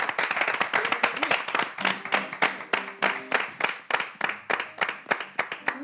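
A studio audience claps in a rhythmic, unison beat, loud and close, with a voice talking over the clapping at times.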